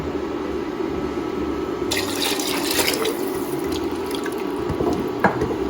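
Water splashes and runs steadily into a cooking pot while making khichdi, a continuous close rushing pour with a few louder splashes partway through.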